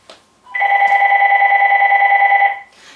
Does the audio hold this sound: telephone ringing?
yes